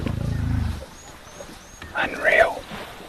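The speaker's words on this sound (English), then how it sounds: "You can hear the male lion growling, trying to claim his place at the carcass" A male lion growls at a carcass on safari, a low pulsing rumble lasting under a second, then quiet bush ambience with faint distant calls and a brief rustle of movement.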